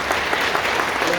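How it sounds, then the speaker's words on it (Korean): Dense, continuous audience applause at a high school admissions information session in a hall, loud and sustained with no clear gaps. "박수 한번 주세요."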